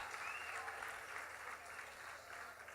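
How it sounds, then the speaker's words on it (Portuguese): A church congregation gives a round of applause, a continuous wash of clapping from a crowd heard at a low, even level for a few seconds. "Mais uma vez, a salva de palmas para a galera aqui desse canto aqui."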